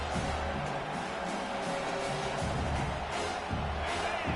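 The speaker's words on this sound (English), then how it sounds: "This crowd trying to make life miserable for this offense." A college football stadium crowd roars in a steady, dense wash of noise that stays constant throughout, loud and continuous with no clear individual voices.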